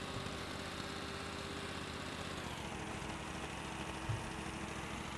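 A tractor engine in the farming video game Farm Expert 2016 drones steadily at a low idle-like hum, a constant, even, mechanical rumble with a faint tonal whine throughout, with no speech.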